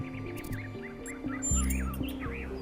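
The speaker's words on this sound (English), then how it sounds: "Do you hear the birds chirping outside the dome?" Birds chirp outside a dome in The Talos Principle 2, with repeated bright tweets and calls over a steady musical drone and low melodic tones, and no one talks.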